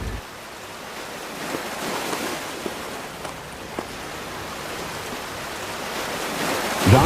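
Steady ocean surf washes in a continuous, fairly loud roar with faint wind, and no voices are present.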